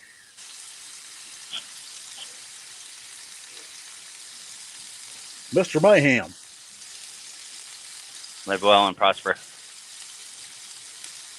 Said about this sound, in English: is the sizzling too much?